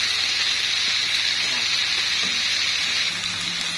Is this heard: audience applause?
no